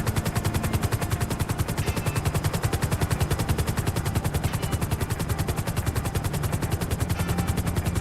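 A helicopter flies in GTA Online, its rotor giving a steady, fast, rhythmic chopping thud that stays loud and close throughout, with no talking.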